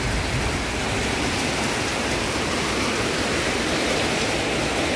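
Heavy rain pours down in wet, windy weather in Udon Thani, Thailand, a dense, steady hiss of water falling and splashing on surfaces, loud and unbroken.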